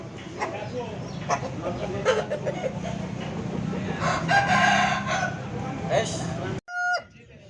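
A rooster crows amid the busy din of a chicken market, its call rising over constant crowd noise and nearby people talking, before the sound cuts off abruptly near the end.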